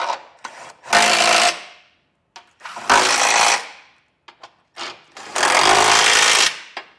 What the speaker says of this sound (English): We'll come back with a 22mm socket and snug everything down.